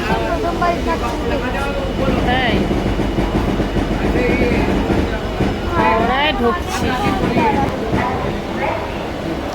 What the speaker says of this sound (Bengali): এই প্ল্যাটফর্মে ঢুকছে ট্রেন